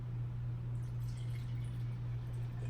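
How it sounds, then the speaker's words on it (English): Water is poured into an essential oil diffuser in a soft, steady trickle, faint and close, over a constant low electrical hum. "So I'm just going to pour some water in."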